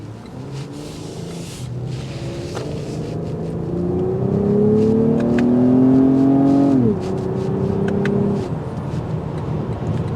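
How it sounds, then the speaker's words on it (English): 2024 Lexus ES 350 F Sport accelerating, its exhaust note climbing in pitch and volume before a brief drop at a gear change, then holding steady as a smooth drone. "You get a nice little exhaust note that filters in."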